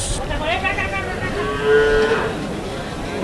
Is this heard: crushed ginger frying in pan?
no